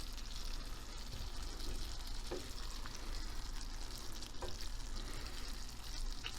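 Spinach and eggs fry in melted butter in a pan, making a steady close sizzle with occasional soft stirring clicks throughout.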